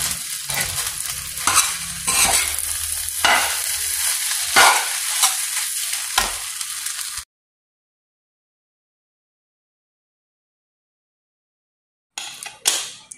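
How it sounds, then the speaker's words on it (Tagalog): Fried rice with spring onion stirred in a hot pan: rapid scraping and tossing strokes over a bright sizzle for about seven seconds, close and loud, then silence before a brief final burst of stirring. "Lalagay na natin itong ating spring onion. Haluin."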